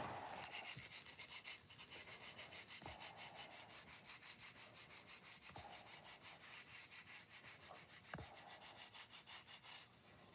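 Mild sanding of a textured pottery pot to knock off burrs, a steady, close scraping rasp with quick rhythmic strokes that runs nonstop, broken by a few sharp knocks.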